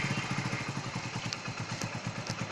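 Hero Splendor iSmart motorcycle engine, faint and close, ticking over in a steady, fast, even thumping idle rhythm with a little mechanical clatter.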